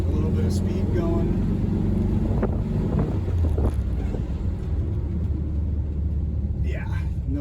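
A 1968 VW Bay Window Bus drives at speed down a straight road, its steady engine and road rumble loud and constant under wind buffeting, with a person talking inside.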